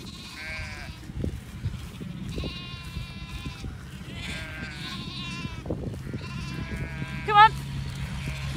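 Sheep and lambs bleat repeatedly at close to middle distance as they are herded on a farm, with a person calling out to them over the flock.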